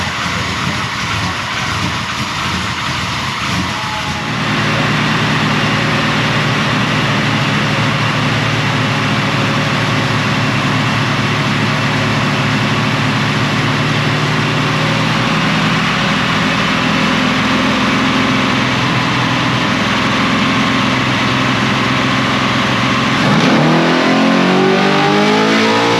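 A 1000-horsepower ZZ 632 big-block V8 in a 1992 Chevrolet 454 SS roars steadily on a dyno during a naturally aspirated pull, holding a loud sustained drone before winding down near the end.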